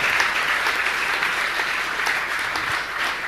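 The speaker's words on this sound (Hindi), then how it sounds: "आपकी तालियों में दम नहीं है दोनों से" An audience at a religious gathering claps steadily, a dense, even patter of applause heard on its own throughout.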